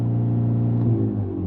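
Honda Civic Type R FL5 with an AWE Touring exhaust, revved while parked with the parking brake up, a loud, close, sustained engine drone that swells slightly and then settles.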